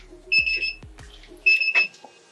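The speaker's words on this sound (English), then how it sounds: "KT-B700, stop beeping" A KATOOL KT-B700 tire balancer beeps in two bursts of bright electronic tones, each a short run of beeps, with a few dull mechanical knocks between them in an otherwise quiet room.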